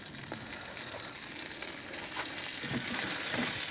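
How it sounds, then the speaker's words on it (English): Butter melting in a pan for campfire quesadillas outdoors, a steady hissing sizzle with faint crackles, close and even throughout. "All right, the butter's just about melted"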